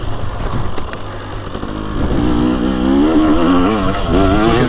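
Two-stroke 2023 TX300 Heritage Edition dirt bike engine revs loud and close on a fall woods ride, a steady buzzing drone that climbs in pitch as the throttle opens.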